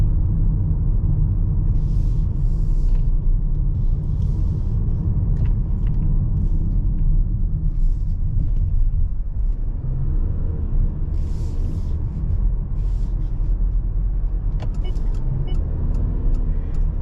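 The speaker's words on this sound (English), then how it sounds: "Now we're back up to speed. Really smooth out of this engine." A 2023 Mitsubishi Outlander SEL PHEV cruising at speed, its engine and tire roar forming a steady, loud low rumble heard from inside the cabin, with faint higher rustles drifting over the continuous drone.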